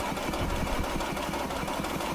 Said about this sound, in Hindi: आइए अब हम बाइक को स्टार्ट करके देखते हैं कि ये वर्क कैसे करता है